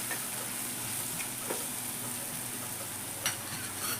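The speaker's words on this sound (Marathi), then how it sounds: "आता अर्धा चमचा हळद पावडर टाकायची आहे आणि ती पण तेलावर अशी थोडीशी परतून घ्यायची आहे" Turmeric powder and chillies fry in oil, a soft continuous sizzle with a couple of faint spatula taps, steady and fairly quiet, heard close with no talking.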